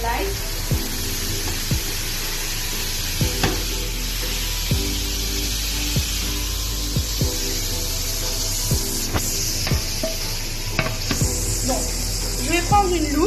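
Crêpes cook in a pan greased with light butter, giving a steady bright sizzle throughout with occasional soft clinks and scraping, under intermittent talk.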